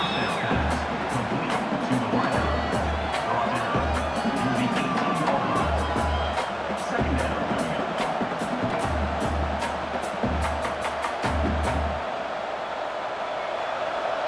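Roaring stadium crowd noise in EA College Football 26, USC at Oregon, building as fans urge the defense during a red zone stand, dense and continuous with rhythmic chanting or stomping pulses under it.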